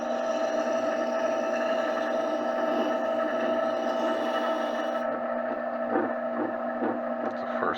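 Beauty and grooming shears being freehand hollow ground, a steady machine-like grinding drone with tonal whine running throughout, fairly loud and continuous, lightening slightly near the end.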